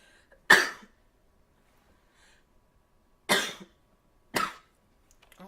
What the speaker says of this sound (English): I always cough in these videos.